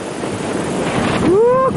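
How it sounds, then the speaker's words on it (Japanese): Ocean waves break on the wide sandy beach at Kujukuri, a loud, close rushing surge mixed with heavy wind buffeting, and a voice rises in an excited exclamation as the wave comes in. "来た、波が来た、来た来た来た来た来た来た来た来た来た来た、うわー、すごい。"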